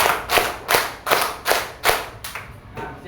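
A classroom of pupils clapping in unison during a religious education lesson, about eight sharp, evenly spaced group claps in a steady rhythm, the last few slightly softer, with no talking.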